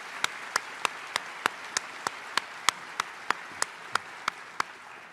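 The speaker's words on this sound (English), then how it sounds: "Let's give them all a round of applause for their incredible" Crisp, evenly spaced single claps, about fifteen in a slow steady rhythm, ring out alone against a quiet room at a parents and families event, honoring staff.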